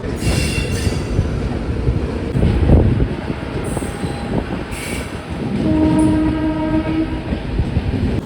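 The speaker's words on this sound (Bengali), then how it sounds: "আমাদের ট্রেন এসে পৌঁছালো কটক জংশন।" A train pulls into Cuttack Junction with a loud, steady rumble of rolling wagons, a few short horn or squeal tones cutting through, and a sustained metallic wheel screech near the end, with no talk.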